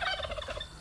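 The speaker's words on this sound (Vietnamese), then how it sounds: "con này nó đuổi này. Nó không sợ đâu nhá, con gà Tây này, nó không sợ" A turkey gobbling nearby outdoors, a rapid rattling burst of warbling calls that fades slightly toward the end, with no talking over it.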